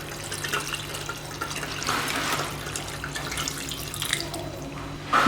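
Tap water runs and splashes continuously over drained pasta in a strainer or pot close by, with a brief louder splash at the very end.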